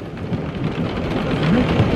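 Thunder cracks close by during a rainstorm in the Gorges du Verdon, a deep rumbling roll over steady falling rain, with no voices.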